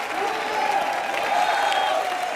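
A studio audience on a comedy show breaks into steady, loud applause, a dense wash of clapping with faint crowd voices mixed in, lasting a couple of seconds.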